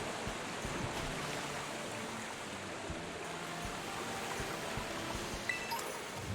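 A waterfall in the video game Pokémon Violet rushes as a faint, steady wash of falling water, continuous and even, with no talk over it.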